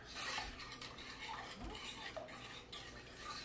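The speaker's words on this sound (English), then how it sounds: "I'm going to whisk this all together." Egg yolks and lemon curd mixture are whisked in a bowl, making quiet continuous metallic scraping and clinking against the sides. The sound is fairly soft and close, with no voices.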